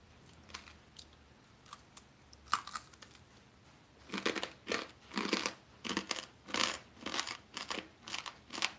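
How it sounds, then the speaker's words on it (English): Someone chewing and crunching on bones close to the mouth, sparse crunches at first, then a steady run of loud rhythmic crunchy bites, no talk. "If you think it's a satisfying sound listening to me chew on it"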